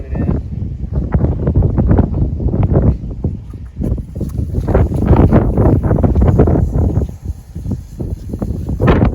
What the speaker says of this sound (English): Oh my gosh, it's really windy.